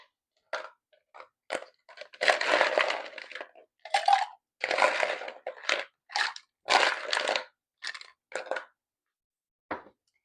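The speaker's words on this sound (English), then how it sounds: "we are going to fill our shaker tin to the top with ice" Ice cubes being dropped into a cocktail shaker tin for a classic margarita on the rocks, heard as a close run of irregular clattering crunches and knocks in short bursts with gaps between them.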